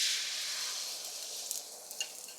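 Beaten egg mixture hitting hot oil in a wok, a loud, close, bright sizzle that starts strong and eases slightly, with a few small pops and crackles near the end.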